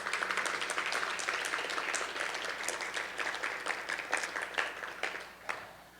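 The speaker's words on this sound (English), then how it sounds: "Please join me in giving all of our sponsors a round of applause for making Persist possible this year." An audience at a women's political engagement conference gives a round of applause for the sponsors: steady, fairly loud clapping from many hands that tapers slightly toward the end.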